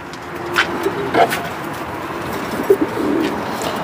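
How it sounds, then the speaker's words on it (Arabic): A pair of homing pigeons perched on a high apartment rooftop, with a few soft coos and wing rustles sounding faint and distant over steady outdoor background noise. "في جوز الحمام واقف هنا اهو"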